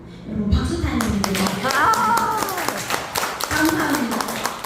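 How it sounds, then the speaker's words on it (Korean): Audience clapping at a Korean product presentation for a nutritional powder supplement, a burst of hand claps with people talking over it, moderately close and steady for a few seconds. "여러분 박수 타임입니다."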